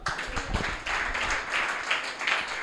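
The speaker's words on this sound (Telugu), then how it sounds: "గట్టిగా చప్పట్లు కొడదండి" An audience at a youth meeting claps loudly and steadily, a dense, continuous wave of applause lasting the whole stretch with only brief dips in intensity.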